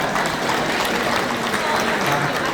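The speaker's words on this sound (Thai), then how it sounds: "ขอเสียงปรบมือนะครับ" In a grand hall at the Niyom Panich company, guests at an MC13 gathering applaud to honour a friend, a short, loud, dense burst of crowd clapping with a faint murmur of voices beneath.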